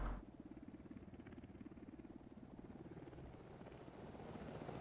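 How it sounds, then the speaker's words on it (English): A helicopter in a military video game flies overhead with a steady rhythmic rotor chop and engine drone that stays fairly constant throughout. "We've got the helicopter flying right over the Dishka."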